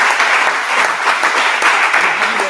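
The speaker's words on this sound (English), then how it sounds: "big round of applause for Jungho" An audience gives a conference presenter a round of applause, dense continuous clapping filling the room.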